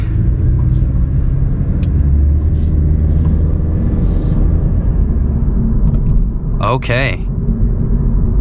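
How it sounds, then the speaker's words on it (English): A 2022 Honda Civic Touring accelerates smoothly at light quarter throttle, a steady low road and engine rumble inside the cabin, with a brief spoken word near the end. "That just accelerated effortlessly, and that was maybe a quarter throttle."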